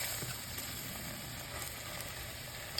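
A sardine burger patty sizzles in a small pan, giving a quiet, steady frying hiss with no voices and a single faint click near the end.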